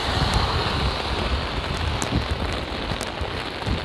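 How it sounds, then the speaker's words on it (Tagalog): Steady heavy rain pours down continuously, a dense close hiss of drops striking surfaces with no voices. "medyo malakas ng konti yung ulan"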